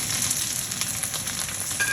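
Silkworms fry in a hot pan with a loud, dense, continuous sizzle and crackle, close up and without voices.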